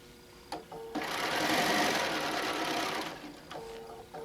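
A sewing machine stitching placemat fabric, its motor whirring in one sustained run of about two seconds, with a few clicks and handling sounds before and after.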